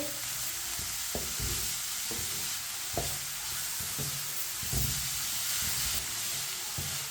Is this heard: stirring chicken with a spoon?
yes